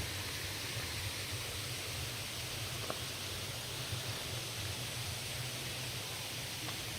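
A forest stream flows steadily at a campsite in Kaeng Krachan National Park, a faint continuous rushing wash of water with no talk.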